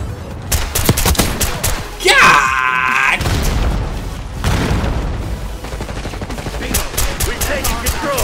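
Bomber killstreak in Black Ops 6 lays down a heavy run of booming explosions and bursts of gunfire. It sits among dense game noise, and a player talks over it throughout.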